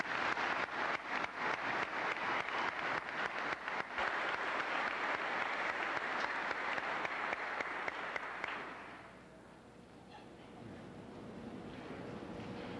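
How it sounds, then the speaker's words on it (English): A crowd at a 2001 Aledo high school graduation applauds the faculty, a broad wash of clapping that sustains for several seconds, then drops away into quiet, faint room noise. "I'd like to take a moment right now to give them a round of applause"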